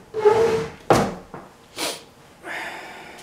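A drawer in a lock room is opened, giving a soft sliding scrape followed by a sharp wooden thunk and a few shorter knocks and rattles of contents, close and fairly loud with no talk.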